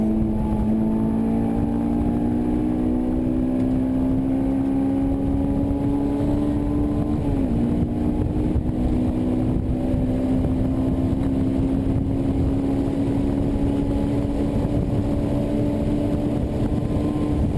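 A Honda S2000 at full throttle on a time trial lap at an SCCA track event, its engine note climbing steadily and loudly with a brief dip partway through before rising again, with no talk.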